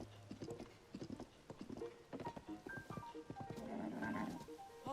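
Horse hooves clip-clop in a rhythmic trot in Zelda: Tears of the Kingdom, followed by a rising whinny and snorting near the end, clear and close with no speech.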